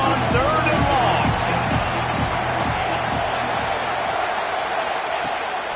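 A football stadium crowd roars with steady, dense cheering on third and long in a college game, loud and continuous with a broad wash of voices and some whoops.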